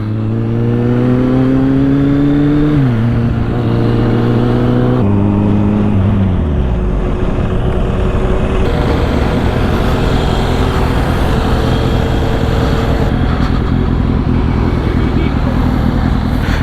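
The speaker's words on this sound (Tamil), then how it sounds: "நவீன் அவர் நம்ம வண்டி ஓட்டுறோம், நம்ம ஒரு வண்டி ஓட்டுன்னு போகிறோம" A Kawasaki Z800 motorcycle engine hums loudly and up close while riding, its pitch stepping up and dropping through gear changes, under strong wind rush with a voice talking.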